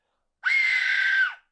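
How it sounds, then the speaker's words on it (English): A replica Aztec death whistle lets out one loud, sustained shriek lasting about a second, with a sharp onset and a falling tail, sounding alone. "loudest screaming Aztec death whistle"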